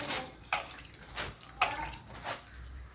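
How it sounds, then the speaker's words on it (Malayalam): Several short splashes of water sprinkled onto dry-leaf compost in a sack, irregular and close, with quiet gaps between them. "പിന്നെ നമുക്ക് ഇതിലേക്ക് വെള്ളം തെളിച്ചു കൊടുക്കാം."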